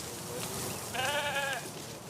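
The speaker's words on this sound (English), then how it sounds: "What you're hearing is a herd of goats chowing down on overgrown plants like ragweed and privet" A herd of goats grazing on overgrown ragweed and privet at River Hills Park, with a single clear bleat in the middle over a soft, constant outdoor background.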